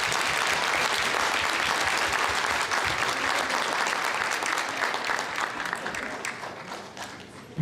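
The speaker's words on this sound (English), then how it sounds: "So one more round of applause for them." A crowd's sustained round of applause for students at a 2019 Shark Tank-style school pitch event: dense, loud and continuous, easing slightly toward the end.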